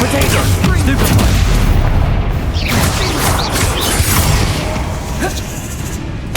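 A Stupefy spell fires during Hogwarts Legacy combat, landing as a loud booming burst amid a dense clash of crashing impacts and other spell effects, with a voice speaking over the noise.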